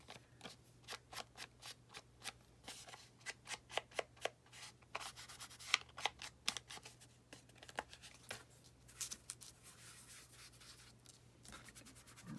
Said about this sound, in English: I love the sound of the tracing paper